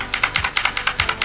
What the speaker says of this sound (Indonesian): Ini tuh nambahin fungsi keycapsnya ini biar dia makin clicky ya.